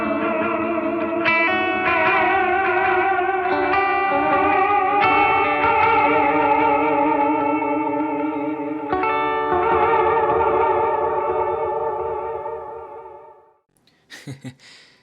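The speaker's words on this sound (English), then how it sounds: "I love the delay, or excuse me, the modulation on the delay when it's set nice and subtle, nothing too crazy" Guitar chords played through an OBNE Black Fountain V4 oil-can delay with increased modulation depth, producing a wobbling, chorus-like warble on the sustained repeats, loud and steady, then cutting off with a brief rustle at the end.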